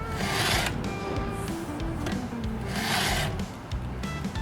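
An all-in-one sharpening file is drawn across a chainsaw chain's teeth in repeated rasping strokes, a close, gritty rubbing that swells and fades with each pass, with no speech.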